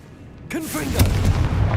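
Confringo blasting spell going off in Hogwarts Legacy, a sudden booming burst with sharp crackling pops and a rumbling tail, followed by more thudding impacts over game sounds.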